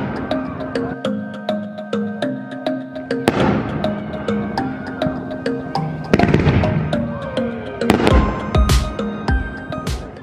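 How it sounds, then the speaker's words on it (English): A New Year's Eve fireworks show finale bursts one after another in a rapid rhythmic series, loud booms and crackles echoing, with a few bigger blasts toward the end. "your first fireworks show"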